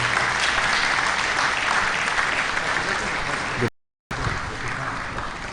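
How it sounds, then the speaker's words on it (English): An audience at a seminar on the Nigerian Finance Act 2019 applauds a speaker, with sustained, even clapping that drops out for a moment near the end before resuming. "Please, a round of applause for him."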